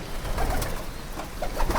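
Soft, low coos from local pigeons in a pigeon house repeat through the clip over a steady background hum, with a few brighter chirps near the end.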